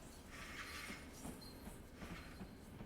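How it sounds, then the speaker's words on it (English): A Long Island Rail Road commuter train in Train Sim World 4 running through a tunnel, a steady rumble with high metallic wheel squeals rising and fading and faint rhythmic clicks, at moderate distance. "I hear a train."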